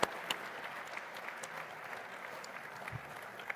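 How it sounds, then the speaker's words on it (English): An audience at the Rare Evo Cardano conference gives a round of applause, a soft, distant, even clapping that holds steady for several seconds without talk. "let's go ahead and give a round of applause to the amazing Rare Evo team"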